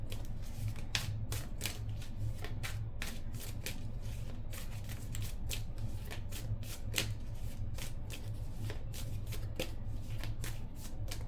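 Tarot cards are shuffled by hand in quick, crisp riffling flicks that repeat steadily for several seconds, close and fairly soft, with no talking.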